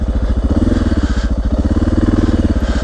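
Dirt bike ridden along a narrow single track trail on state land, loud close engine with a rapid pulsing throb that holds steady and swells slightly, no voices.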